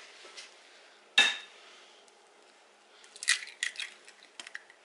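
An egg goes into cheesecake batter in a bowl for a lemon-lime cheesecake with coconut crust: one sharp crack and clink, then a cluster of wet taps and clatters of utensils against the bowl, close and fairly quiet.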